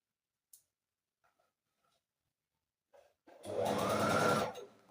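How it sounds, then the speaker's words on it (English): A sewing machine chain sews pieces for a quilted Christmas table runner. After a few faint taps, one short, loud whirring burst of stitching rises and stops within about two seconds. "And obviously you can chain sew this"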